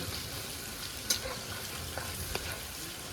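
Chicken pakora fries in very hot oil, giving a continuous bright sizzle with a few sharp pops and crackles scattered through, close and steady with no voices.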